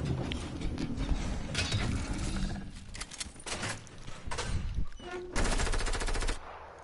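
Rapid automatic gunfire and single shots from a multiplayer shooter video game match, loud and continuous with bursts and brief gaps throughout.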